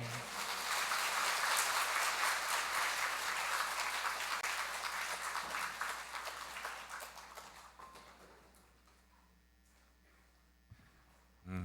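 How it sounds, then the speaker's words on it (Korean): Church congregation applauding a priest after his sermon at a parish seminar, a loud, dense burst of clapping that gradually thins and fades into near quiet, with a brief thump at the end. "다시 한번 힘있고 강력한 말씀을 해주신 신부님께 다시 한번 감사의 박수를 올려주십시오"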